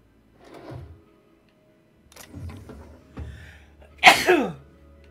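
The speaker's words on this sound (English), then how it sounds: "I'm sneezing up a storm over here." Someone sneezes once, sharp and loud, during a video game session. Softer shuffles and clicks come a few seconds before it.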